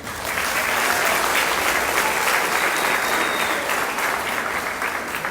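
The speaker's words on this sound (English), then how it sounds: "So I like to give all my guys that handle that a big round of applause." A large festival audience at an Apple Festival gives a sustained round of applause, dense and steady clapping that fills the whole stretch at a fairly loud, even level with no talking over it.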